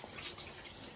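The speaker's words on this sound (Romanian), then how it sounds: "Dar numai cu apă să spălăm." Beef tripe being washed under a running tap, a brief steady hiss of flowing water with light splashing, close and alone.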